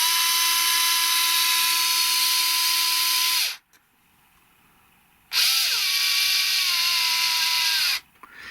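A Fanttik L1 Pro 3.7V cordless power screwdriver drives a screw with a loud, close, steady whine that drops in pitch as it slows, cuts out, then starts again for a second run and stops.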